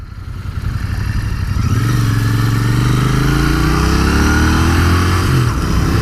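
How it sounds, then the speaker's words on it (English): A Royal Enfield Continental GT 650 motorcycle, a 2019 model with a 47 horsepower parallel twin, is ridden at steady speed. Its engine note stays loud and close, with a throttle roll-on partway through, and no voices are heard. "it sounds and feels like a motorcycle should"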